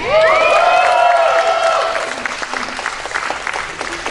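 At a Comic Con panel, an early but lively audience cheers and whoops loudly over steady applause, the shouting fading after about two seconds and leaving clapping that tapers off.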